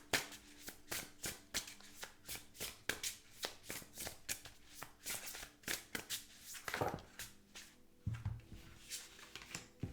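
Tarot cards being shuffled by hand, a rapid run of crisp riffling flutters and soft taps close by, with brief pauses between bursts.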